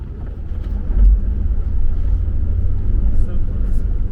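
Vehicle engine rumbling low and steady while backing out on a climb, a close, continuous drone with a brief swell in effort partway through.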